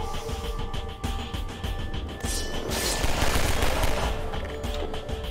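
Rapid, sustained gunfire from the video game Half-Life 2 rattles on loud and dense for several seconds, bursts overlapping into a continuous fusillade with crashing impacts.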